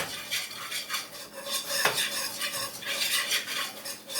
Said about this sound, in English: we're going to continue to stir this